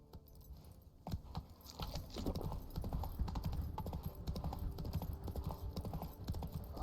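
Roach the horse gallops in The Witcher 3, a rapid, even clip-clop of hooves, close and moderately loud, with a faint jingle of tack over a soft game ambience.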